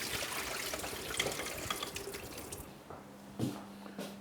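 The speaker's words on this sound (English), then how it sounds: "So I'm just putting them in some salted water." Potatoes being rinsed in salted water in a kitchen, a soft sloshing and running-water wash with a few clinks, steady and close, without talk.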